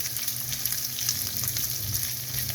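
Pork belly and garlic sizzle and crackle in a hot pan, a dense, continuous frying hiss with small pops, heard close and without speech.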